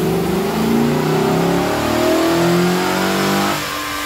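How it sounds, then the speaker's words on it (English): A tuned 5.3L V8 roars on a dyno, climbing in pitch through a loud sustained rev before the throttle drops off and the engine settles lower near the end. "let's listen to that engine one more time"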